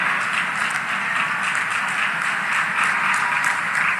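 An audience applauds at a government housing ceremony in Bilaspur where house keys are handed over, a dense, steady wash of many hands clapping that holds evenly throughout.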